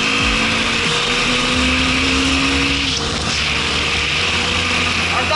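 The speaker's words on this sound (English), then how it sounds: "look, no clutch man, just shift the gear" A Bajaj Dominar 400 motorcycle engine revs and changes pitch during a clutchless gear shift, a loud, steady drone with rising and dropping engine tones, close by, while someone talks over it.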